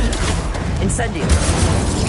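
An Incendio fire spell cast in a Hogwarts video game, a loud whooshing blast of fire that roars over a busy, noisy game mix for a couple of seconds.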